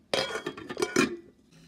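Several quick metallic clanks and scrapes of a lid being set onto a rice cooker pot, close and fairly loud, ending in a brief ring.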